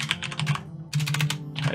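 Close, brisk typing on a computer keyboard in two quick bursts separated by a short silent gap, each keystroke sharp and distinct over a low background hum.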